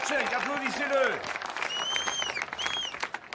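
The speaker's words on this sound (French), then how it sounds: "ovation pour Monsieur Cheng, applaudissez-le." Audience applause, a burst of clapping from a crowd mixed with cheering voices, heard under talk for a few seconds.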